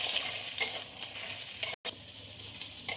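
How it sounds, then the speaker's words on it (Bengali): Oil sizzles steadily as lentil dumplings are fried, with a few scraping stirs of a spoon in the pan and a brief dropout midway. "ওই তেলের মধ্যে বড়িগুলো ভেজে নেব,"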